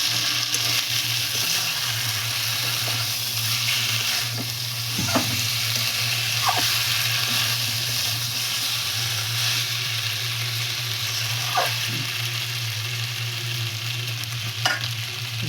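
Pre-fried potatoes and meat sauté in a pan, giving a steady, close sizzle with occasional scraping stirs throughout.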